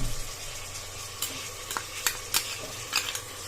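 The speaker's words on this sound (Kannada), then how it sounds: "ಹಸಿ ವಾಸನೆ ಹೋಗ್ಬೇಕು, ಅಲ್ಲಿವರೆಗೂ ಚೆನ್ನಾಗಿ ಫ್ರೈ ಮಾಡ್ಕೊಳ್ಳಿ ಲೋ ಫ್ಲೇಮಲ್ಲಿ ಇಟ್ಕೊಂಡು." Tomato, green chillies and ginger garlic paste frying on low flame for vegetable pulao, a soft steady sizzle with repeated spatula scrapes and taps against the pan, close and fairly quiet, with no voices.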